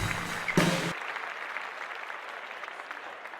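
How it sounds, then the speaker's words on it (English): Studio audience applause opening a podcast show, a short burst of clapping that quickly thins into a lighter, sustained patter of claps. "So put your hands together if you are ready to get the show started."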